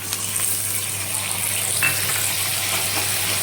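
Tomatoes hitting a pan of lightly fried paneer, a loud, steady close-up sizzle and crackle of frying that holds evenly throughout with no talking.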